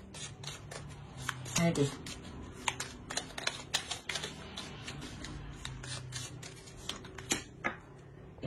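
Tarot cards are shuffled by hand, producing soft, quiet riffling and flicking clicks in short bursts while someone speaks French.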